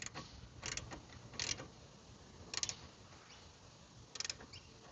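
A 15mm spanner tightening a steering fitting on a Mercedes W164, faint and close, with a few short ratcheting clicks and creaks spaced irregularly against quiet background.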